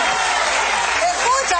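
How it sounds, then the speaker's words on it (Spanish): An audience applauds with a dense, steady patter of clapping, a voice speaking over it now and then. "¡Un aplauso!"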